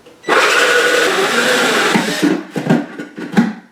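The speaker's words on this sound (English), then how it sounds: "So we're cutting a 2 1/2 inch hole in the bottom of this plastic bucket." A power drill spins a hole saw through the bottom of a plastic bucket, cutting a 2 1/2 inch hole on a kitchen table. It gives a loud, close grinding whine lasting about two seconds, then short choppy bursts.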